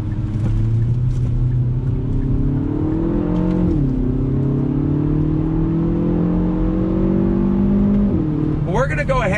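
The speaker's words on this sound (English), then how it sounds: "Let me show you some more downshifting here on the brakes." A 2021 Hyundai Veloster Turbo engine heard from inside the cabin, droning loud and steady, its pitch stepping up sharply at each downshift while braking, with a brief high whine near the end.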